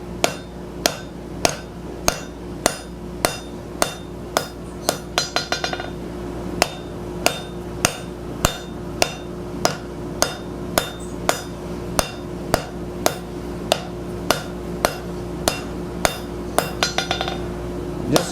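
A hand hammer planishes the surface of metal stock in light, evenly spaced ringing blows, about two per second, bright and metallic up close with a couple of quick flurries and no talk.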